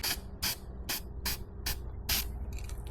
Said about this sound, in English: I'm gonna spray a little bit to the back plate, not the front, the back plate, just to reduce noise